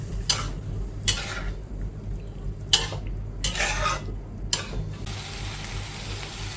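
Cashew paste fried in a pan while being stirred, with a spoon scraping and knocking against the metal in several separate bursts over a low steady background.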